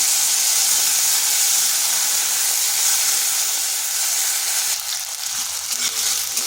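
Small potato dropped into hot oil with five-spice, a dried chili and bay leaf, sizzling steadily and loudly at close range throughout, with a slight stir or shift near the end.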